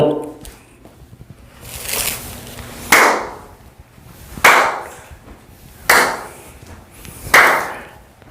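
Hand clapping done as a health exercise, four sharp, loud claps spaced about one and a half seconds apart, with softer rustling and a faint voice between them.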